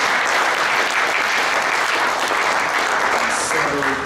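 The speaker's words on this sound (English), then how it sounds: "let's just have another round of applause for all of our five speakers." A conference audience at an off-Earth mining forum applauds its panel of five speakers, steady dense clapping filling the room throughout, with a few voices surfacing faintly near the end.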